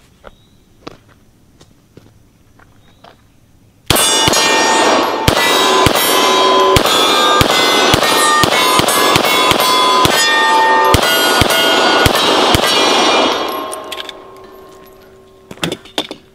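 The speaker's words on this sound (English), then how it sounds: "Yeah, it shoots really well. Of course, it's a 9mm." A 9mm pistol fires a rapid string of about a dozen loud, sharp shots with ringing echoes, each report cracking over the last before the sound dies away, then a few faint clicks.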